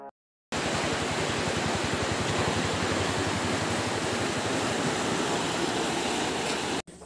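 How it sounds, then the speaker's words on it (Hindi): Canal water rushing over a bridge built above the Sai river, a loud, unbroken roar of flowing water that begins abruptly after a brief silence and cuts off near the end. "नदी के ऊपर से नहर बहती है।"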